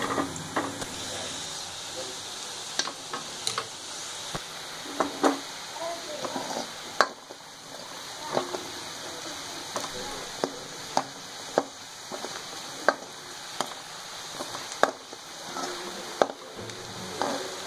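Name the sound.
onions frying and being stirred in a pan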